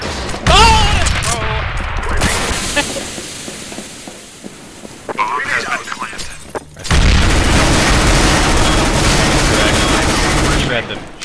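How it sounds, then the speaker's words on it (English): Explosions and rapid gunfire from a tactical shooter video game round with a grenade thrown, loud dense bursts of automatic fire and booms with a brief lull midway, players talking over the action. "I'm throwing a grenade."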